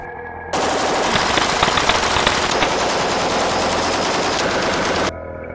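A continuous loud burst of Uzi 9mm machine gun fire, a dense rapid rattle lasting several seconds that starts and stops abruptly, with no voices over it.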